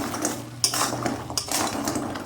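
Kheer-filled mung dal pithe go into sugar syrup in a pan, with clinks and scrapes of a utensil against the metal pan, several sharp taps over a soft simmering background, close by and with no talk.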